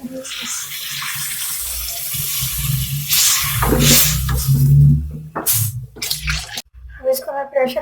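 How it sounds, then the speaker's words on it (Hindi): Water poured from a tap into a pot of red lentils with salt and red chilli for dal, a rushing splashy stream that swells and breaks off, followed by brief clatter and a voice. "और पानी ऐड करेंगे।"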